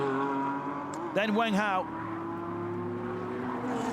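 GT race cars from the SRO GT Cup in Beijing roar past under a commentator's voice. A steady engine drone is broken by a brief, louder warbling pass lasting about a second.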